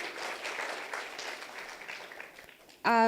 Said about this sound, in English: A bigger round of applause for Joseph Ogutu